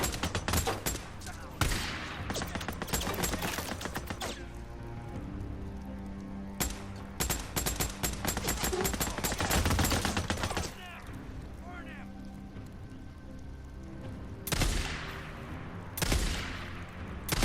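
Sniper and automatic gunfire in the video game Days Gone: dense volleys of sharp shots crackle in loud bursts, break off briefly, then return in repeated rapid clusters.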